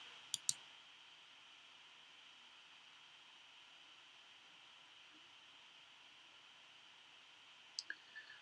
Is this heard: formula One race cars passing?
no